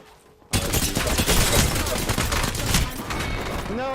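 Rapid gunfire in the video game Apex Legends: dense, loud bursts of shots and impacts that start abruptly and keep going, with a quiet lead-in before the firing begins.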